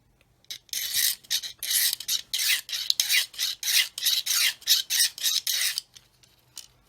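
Rhythmic rasping of a file thinning a plastic part on a 1/32 Kitty Hawk OV-10 Bronco model aircraft kit, about fifteen close, even strokes in a steady back-and-forth pattern that stop near the end.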